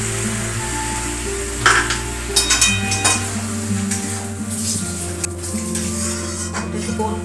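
A paste of ground mustard, cumin and radhuni is sautéed with water in a pan for Bengali shukto. Soft sizzling runs under a steady low hum, with sharp clinks of a utensil scraping and stirring.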